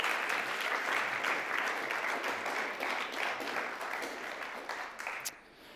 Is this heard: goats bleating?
no